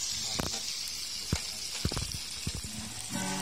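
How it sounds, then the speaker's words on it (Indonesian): Hunted koak bird meat frying in a pan, a steady close sizzle throughout with scattered sharp pops and clatters from stirring, no talk. "Oke, kita goreng. Nanti kalau agak kering kita kasih bumbu."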